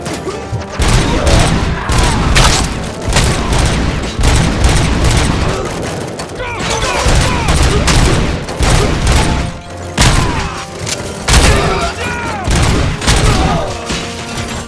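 Heavy gunfire erupts in RoboCop Rogue City, with loud dense volleys of shots and booming impacts repeating throughout and a few faint shouted voices mixed in.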